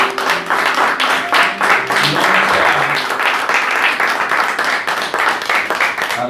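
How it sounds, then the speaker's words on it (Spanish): A church congregation gives loud, sustained applause during a worship service. Many hands clap at once in a dense, close wash that lasts about six seconds, with faint tones from a musical instrument underneath. "Dale un fuerte aplauso, Señor."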